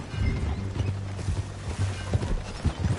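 Horse hooves clip-clopping at a steady walking pace in Red Dead Redemption 2, a low, even rhythm of soft thuds over a faint background, close but quiet, with no talk.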